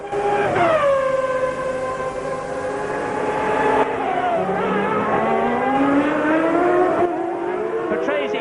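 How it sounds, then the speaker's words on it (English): Formula One cars at the 1992 Australian Grand Prix, one car lapping another with a third close behind: loud engine whines sweep and shift pitch as the cars pass, under continuous commentary. "So watch Patrese lap Larini, followed by second place Gerhard Berger."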